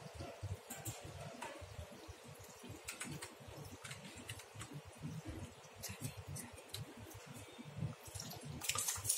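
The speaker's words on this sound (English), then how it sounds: "You can see the water is come out the overflow. It means the water is enough." Water trickles and drips steadily as it fills the tank of a portable ND YAG laser tattoo removal machine, a soft, continuous low patter with faint splashes, close by and quiet, no talking.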